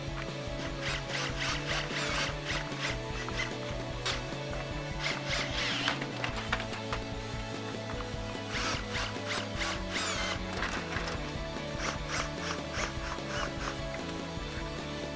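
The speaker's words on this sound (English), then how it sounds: "I've got mine in our drill bit here on our lowest setting so we don't strip anything" Power drill on its lowest setting driving Allen bolts on a Ram grille insert bracket: a continuous whirring drive mixed with repeated ratcheting clicks, steady and fairly close throughout.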